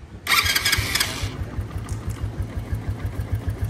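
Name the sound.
motorcycle engine starting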